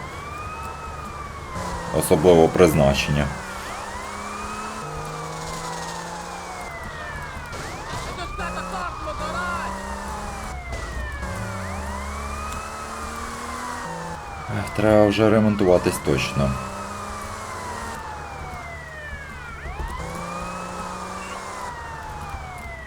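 Police sirens wailing in the video game GTA Vice City, rising and falling sweeps repeating continuously under engine noise and crash bursts, while someone talks over the gameplay.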